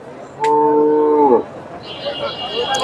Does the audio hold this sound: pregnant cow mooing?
yes